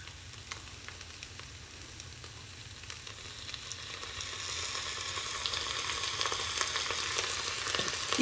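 Worcestershire sauce sizzling in a hot frying pan with cooked vegetables for a vegetarian shepherd's pie, a steady close frying hiss that grows slightly louder and fuller toward the end.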